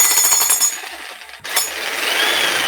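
Jackhammer breaking through a wall at about 105 decibels, a harsh rapid clatter close up that cuts out briefly midway, then resumes with a hissing roar.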